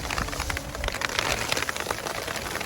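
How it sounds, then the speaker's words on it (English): Hail drums on a tent in the mountains of New Mexico, a dense, steady patter of close, sharp taps on the fabric with no talking. "Lying in the tent, and look at it, it is hailing out."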